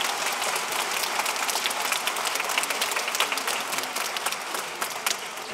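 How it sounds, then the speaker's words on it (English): An audience applauds at a middle school pop show concert, with continuous, even clapping from many hands at moderate volume and no voices over it. "they deserve a hearty round of applause"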